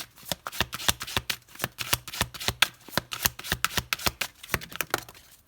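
A deck of tarot cards is shuffled briskly in a steady stream of rapid riffling flicks, close and crisp, slowing near the end as cards are drawn; no voice.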